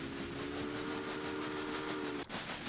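A train runs in the video game Railway Empire, giving a steady rumble with a sustained horn tone that cuts off near the end, then rolling clatter, up close.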